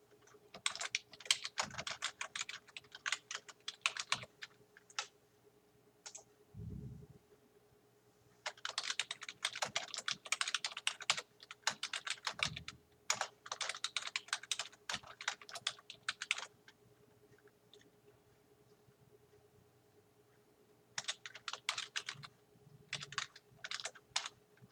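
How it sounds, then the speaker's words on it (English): Typing on a computer keyboard, with long runs of rapid, close key clicks broken by brief pauses and a few heavier thumps, and no voices. "we're going to type the information"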